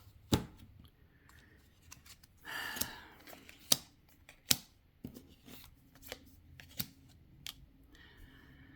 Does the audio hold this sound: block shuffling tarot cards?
yes